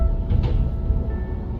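A low, steady rumble inside a Eurotunnel car-carrying shuttle train between France and England, with deep droning vibration and a faint metallic whine, heard from inside the carriage.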